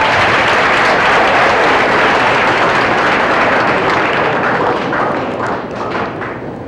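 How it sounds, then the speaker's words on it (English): Loud, dense audience applause filling a school event hall during a Touchdown Club program, a sustained roar of many hands clapping that tapers slightly toward the end, with no talking. "Give yourselves a round of applause."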